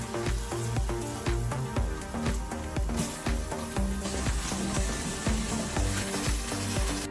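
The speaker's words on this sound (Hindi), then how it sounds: "यहाँ पे इसको हल्का सा हम सौते करेंगे, कलर करेंगे इसका चेंज" Onions sauté in a pan for turai bhujia, a continuous close sizzle with regular scraping and stirring strokes throughout.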